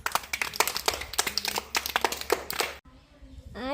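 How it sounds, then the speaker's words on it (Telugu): Children in a first-grade Telugu class clapping together, a rapid, dense run of hand claps for about three seconds, close and lively, followed by a brief quiet moment and a voice. "క్లాప్స్ కొట్టండి"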